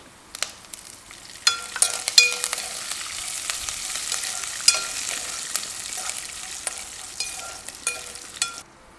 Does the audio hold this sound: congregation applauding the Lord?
no